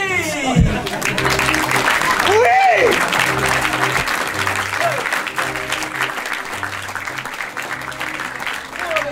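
Loud, sustained applause from an improv theatre audience fills the room, with a voice calling out briefly and background music playing beneath the clapping.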